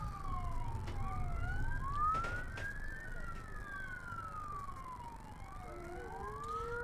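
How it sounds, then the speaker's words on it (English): Distant emergency sirens wail from far away in the background at an outdoor sheepdog trial, the Ted Gaby Perpetual Interstate Challenge. Several overlapping tones sweep up and down over wind and low rumble. "We can hear some sirens in the background."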